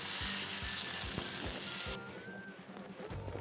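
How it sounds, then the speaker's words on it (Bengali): Fried potato and eggplant with salt and turmeric sizzling in a pan, a loud hiss with rhythmic spatula knocks that drops sharply as water is poured in, leaving a softer bubbling simmer. "এবার আমি দিয়ে দেবো এতে পরিমাণ মতো জল"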